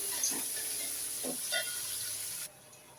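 Three onions fry in hot oil for prawn biryani, giving a steady close bright sizzling hiss with a few soft stirring bumps before it cuts off abruptly.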